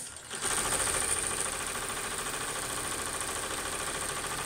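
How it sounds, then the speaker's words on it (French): An embroidery machine with loosened thread restarts after a short quiet moment, then settles into a steady, close, rapid stitching hum that carries on without a break. "Donc je redémarre la machine"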